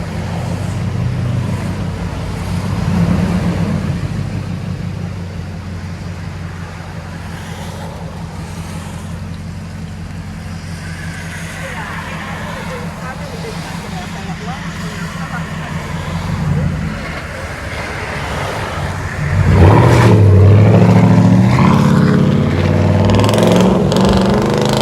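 A Nissan Titan V8 runs with a deep, throbbing idle, swells briefly with small blips, then revs hard into a loud, sustained roar near the end, with wind noise and someone talking at times.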